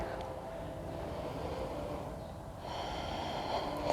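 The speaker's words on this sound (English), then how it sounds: "Just breathe." Slow, soft breathing during a held yoga pose, faint and close, with gentle airy inhales and exhales over a low steady background.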